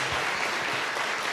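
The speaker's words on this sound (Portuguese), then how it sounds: "Uma salva de palmas ao Senhor pela vida dessas irmãs" A church congregation at a women's congress gives a brief burst of dense, steady applause, close and loud throughout.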